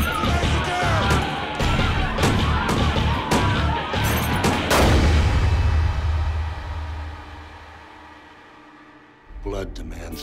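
Bursts of gunfire punctuate a tense crime thriller trailer, several sharp shots in the first half over music and shouting voices, then fading to quieter tones before a final hit.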